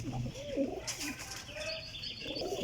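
Pigeons coo softly in a few rounded, wavering calls with faint chirps and light wing movement around them.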